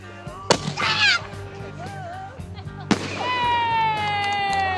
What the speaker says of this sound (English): Everyone is cheering for fireworks.